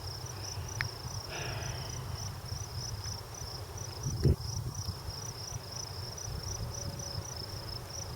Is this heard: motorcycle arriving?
no